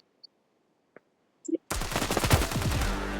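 After near silence and a few faint clicks, a sudden loud burst of rapid gunfire erupts in a shooter video game and rattles on continuously to the end.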